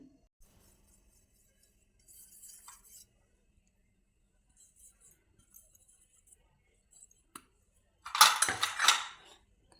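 Metal idli steamer plates are oiled and filled with batter, giving faint scattered clinks and scrapes before a louder burst of close metallic clatter near the end, with no talk.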